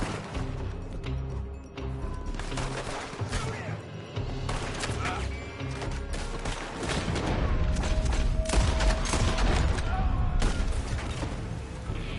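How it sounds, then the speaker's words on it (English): Gunfire rings out from a building in the video game Red Dead Redemption 2, a dense, continuous barrage of overlapping shots, thuds and crashes layered over music and game sounds throughout. "They're shooting from that building!"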